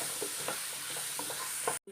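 Tomatoes, three of them, sautéing in a pan for tomato rice, with a soft steady sizzle and light stirring scrapes recurring through the short stretch before it cuts off.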